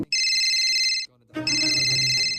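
Phone ringing as an audiobook sound effect: two loud electronic ring tones separated by a short gap, with a voice speaking under the second ring.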